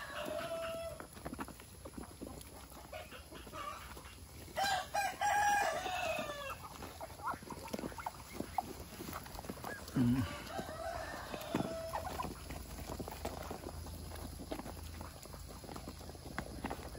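Rhode Island Red and Black Australorp chickens on a farm cluck and a rooster crows, with fowl calls scattered over quiet farmyard background at moderate to faint level.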